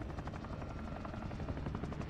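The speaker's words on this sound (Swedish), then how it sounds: "Nej, det är en helikopter." A video game helicopter, its rotor thumping in a steady rapid pulse under a constant engine drone, fairly faint and unbroken throughout.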